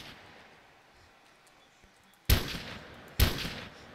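Gunfire in a modded survival video game: two sharp, loud gunshots about a second apart, each with a booming tail, over a steady low background hum.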